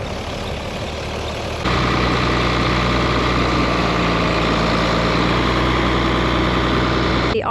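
A tractor engine runs steadily, driving a grain auger through its PTO at a farm grain bin during harvest, with a deep, loud, continuous rumble that rises to a heavier drone after a couple of seconds.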